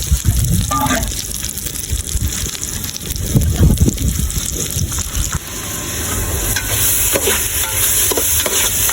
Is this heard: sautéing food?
yes